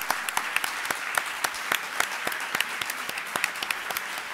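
Dense, steady crowd applause fills a hall at the 2017 Premios Nuevas Miradas television awards ceremony, with many hands clapping continuously and evenly for several seconds.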